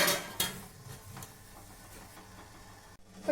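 A metal lid clanks onto a pot of beaten rice and banana steaming over a medium flame, with a sharp clatter early on, soft rattles and a final scrape of metal.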